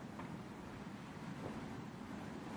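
Heavy surf pounds a harbour on Jeju's coast during Typhoon Hinnamnor, a dense continuous roar of waves and gusting wind buffeting the microphone, with no voices and no break in the noise.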